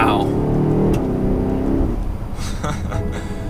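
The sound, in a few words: BMW X5 M50i V8 engine rumble accelerating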